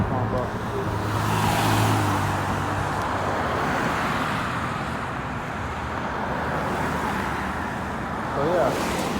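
Busy street traffic at Front St., with cars and larger vehicles rolling past in swells and a steady tyre-and-engine roar underneath, heard close while a person speaks over it.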